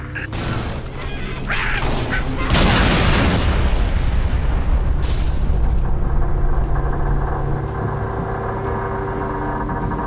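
Artillery barrage in the Halo: Reach campaign mission Exodus: loud, sustained booming roar with heavy low rumble, swelling into dense overlapping blasts after a couple of seconds and staying intense throughout.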